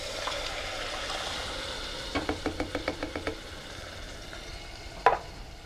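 Crushed tomatoes added to onions and garlic sizzling in a pot for marinara sauce, a soft steady sizzle with a quick run of rhythmic scraping stirs and a sharp clank near the end, no talking.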